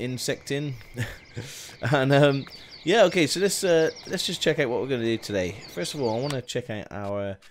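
Morning ambience in the video game Farming Simulator 19, with faint birds tweeting and insects buzzing in the background, mostly buried under someone talking continuously.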